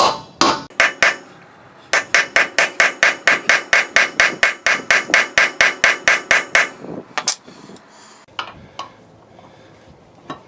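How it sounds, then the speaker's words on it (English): A hammer strikes a hub assembly being fitted to a 1997 Dodge Ram, first a few loud metallic blows, then a fast steady run of about two dozen ringing hits, followed by scattered quieter clanks. "Try to hammer this on and then put the breaker bar on."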